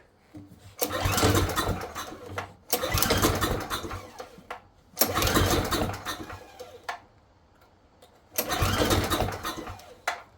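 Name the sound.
small engine starting, tried without choke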